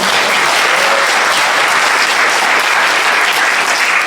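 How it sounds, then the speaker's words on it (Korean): Loud, unbroken applause fills a Korean church testimony meeting as the congregation claps for the Blessing praise team, a thick, even roar of many hands sustained for several seconds. "저희 블레싱 팀도 다시 한번 박수 한번."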